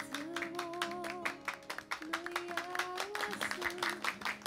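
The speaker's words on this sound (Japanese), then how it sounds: "大きな拍手でお送りください。" An audience claps at the close of a Tokyo Tower TV show segment. The applause is a steady patter of many hands, and a sustained tonal sound plays at the same time.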